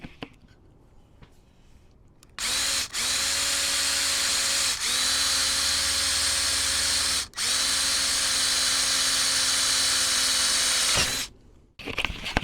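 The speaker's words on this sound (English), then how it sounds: "I'm going to go ahead and drill this out" A power drill runs steadily for several seconds, close and loud, drilling through a Ford truck battery terminal, with a couple of brief dips in speed before stopping.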